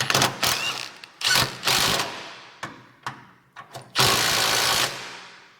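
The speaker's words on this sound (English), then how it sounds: "So I'm just quickly tightening these bolts to hold it in place." Size 12 bolts being tightened under a Toyota 4Runner while a fuel tank is installed, a series of loud, abrupt mechanical tool bursts of varying length separated by short pauses, with no talk.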